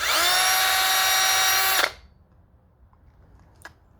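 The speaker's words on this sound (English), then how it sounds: "Puck uniformer, put it in my drill, make it easier." A power drill spinning a primer pocket uniformer for reloading .300 AAC Blackout brass whirs steadily at high speed for almost two seconds, then winds down and stops, leaving a quiet room with a faint click.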